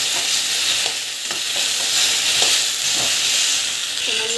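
Okra fries in oil with salt in a pan, dhaba style, as an even, loud close sizzle with faint periodic stirring taps and no talking.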